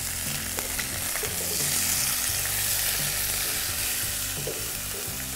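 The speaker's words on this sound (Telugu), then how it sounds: "మన ఈ చికెన్ ముక్కల్ని ఆ నెయ్యిలో లైట్గా వేయించుకోండి." Chicken drumstick and thigh pieces sizzle steadily in hot ghee, a loud, continuous frying hiss with occasional stirring scrapes, close up and with no voices.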